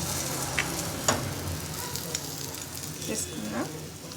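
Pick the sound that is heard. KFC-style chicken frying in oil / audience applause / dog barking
KFC-style chicken frying in oil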